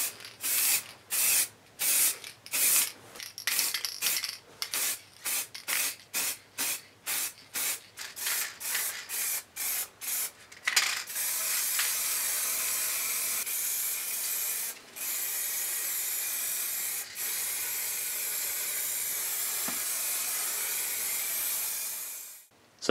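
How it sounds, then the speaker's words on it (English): Silver and black spray paint rattle cans hiss in a long run of short, rhythmic bursts, then shift into one steady spray with only brief pauses. "I'm going to just get two rattle cans in silver and black"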